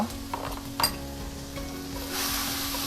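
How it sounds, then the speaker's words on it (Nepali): Finely chopped ginger and garlic sizzle in a hot pan, a steady bright frying hiss with a brief clink of a utensil and stirring scrapes, the sizzle swelling louder near the end. "प्यान हाम्रो हिट भइसकेको छ, त्यसैले अब जिन्जर र गार्लिकको, लसुन अदुवाको फाइनली चप अथवा मिक्स हालिदिन सक्नुहुन्छ"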